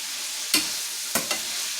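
Ground beef with fish sauce and lime juice sizzles steadily in a hot pan, broken by three quick scraping strokes of a spoon over about two seconds.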